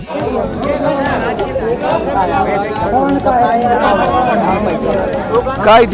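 A crowd of farmers chatters together outdoors, overlapping voices forming a loud, steady hubbub with several people talking at once.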